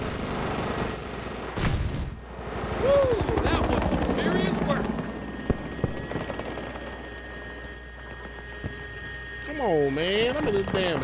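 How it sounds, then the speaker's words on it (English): Battlefield 2042 gameplay with a helicopter rotor drone running steadily under gunfire bursts and artillery booms, while a player talks over the action. "Helicopter, take me back up there."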